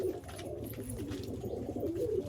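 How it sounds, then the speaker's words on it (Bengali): Punjabi Malwai pigeons coo softly in a low, wavering rumble, several birds overlapping continuously at close range. "শাক সবুজ মালবাহী পায়রা দেখছেন কত সুন্দর"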